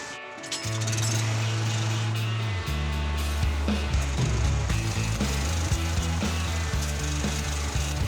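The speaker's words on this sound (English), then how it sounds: "Pulling up the deck boards so that when we weld the plate to the beam, it doesn't catch fire." Wooden deck boards on a steel lake dock being pried up, a steady loud mechanical drone with scraping and creaking wood layered over it, no talking.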